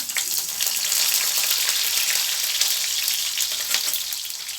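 Ginger and green chillies sizzle and crackle steadily in hot oil in a pan for mango idiyappam, a loud, dense frying hiss that carries on without a break and with no voices.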